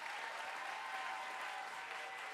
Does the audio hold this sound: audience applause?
yes